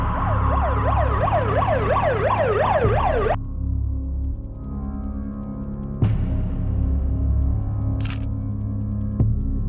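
A loud ambulance siren wails in fast, rising-and-falling sweeps for about three seconds, then cuts off abruptly and leaves a duller background hum.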